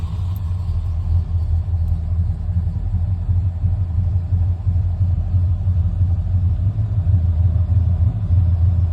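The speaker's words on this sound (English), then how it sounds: "idles right at about 800 RPM." A 1986 Ford truck engine idling steadily at about 800 RPM with no throttle, a low continuous rumble heard close and evenly throughout.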